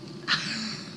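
A person imitates an osprey with one short, high, thin whistled cry near an osprey nest, then a faint trailing tone before a sudden loud note at the very end.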